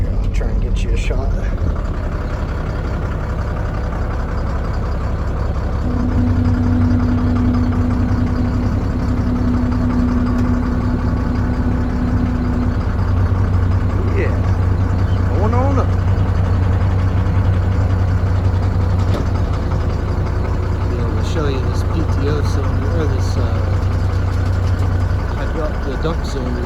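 A cheap, worn dump truck's engine idles steadily and loud throughout, a constant mid-pitched rumble with faint knocking while the dump bed is being raised, a low hydraulic whine rising at times.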